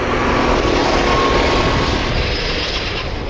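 A go-kart engine accelerates hard on a racing track during a first kart outing, its loud, steady, buzzing drone held close and continuous throughout, with no talk over it.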